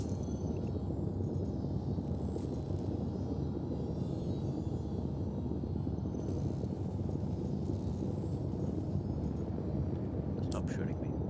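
Spaceship engines roar through takeoff in Star Citizen, a steady, loud, broad rumble that holds unbroken across the whole stretch, with faint game sounds above it.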